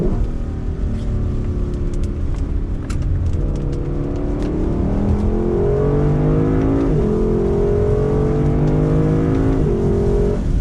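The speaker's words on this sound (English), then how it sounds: "And that 5-liter just has an amazing sound." A 2021 Lexus LC 500's 5-liter engine revs and climbs through its 10-speed gears with a deep, throaty roar, loud and close, pitch rising in steps over steady mechanical rumble.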